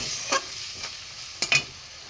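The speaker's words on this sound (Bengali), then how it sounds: "এখানে নুন, হলুদ, লঙ্কা গুঁড়ো, জিরে ধনে গুঁড়ো, এখানে আদা গ্রেট করা একসাথে আমি কষে নেব" Onion, garlic, tomato, ginger and ground spices being stir-fried together in a pan, soft steady sizzling broken by a few sharp scraping strokes of a spatula, close and quiet.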